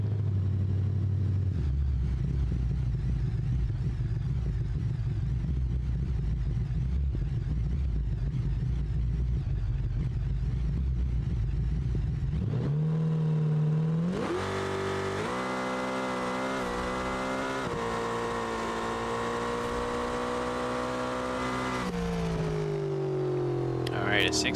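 Car engine in the BeamNG video game on a drag run, revving loud and steady, then rising sharply in pitch through the gears as it accelerates, with a voice talking over it throughout.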